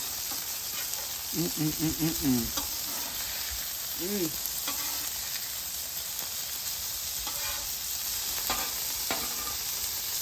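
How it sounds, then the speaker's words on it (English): Slider buns toasting on a hot griddle give a steady, close sizzle throughout, with a few brief scraping and tapping sounds from a spatula and some faint voices in the background. "We have some sweet style slider buns. I'm just going to toast those up nicely."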